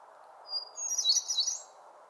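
A hermit thrush sings one short, clear phrase of high, fluting notes over a steady low hum in the background.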